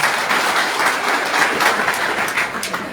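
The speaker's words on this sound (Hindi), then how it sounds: "जोरदार ताली इनके लिए ज्यादा लगाना" Applause from a crowd at a political press conference after a by-election nomination in Dumri, a loud, continuous patter of many hands clapping close by without pause.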